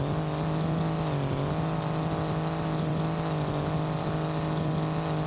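Van engine in BeamNG Drive, a steady loud drone with a droning hum that rises briefly, continuous throughout.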